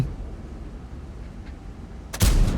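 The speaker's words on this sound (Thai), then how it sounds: "ยิงครับ แต่ว่าไม่โดนครับ" A tank cannon firing in World of Tanks: after a stretch of low rumbling engine ambience, a sudden loud boom breaks in near the end and rolls on into a sustained blast.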